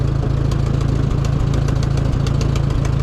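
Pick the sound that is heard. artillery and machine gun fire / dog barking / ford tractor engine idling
ford tractor engine idling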